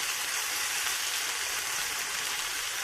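Sambar powder with chili and turmeric sizzling in a pan over a low flame, giving a steady, even hiss that continues without break and with no talking.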